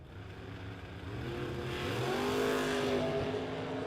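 Drag race cars, including a low-slung 1996 Chevrolet Beretta, roar down the strip at a Mutt and Jeff bracket race, a loud sustained engine howl climbing in pitch through the gears, close and without talk.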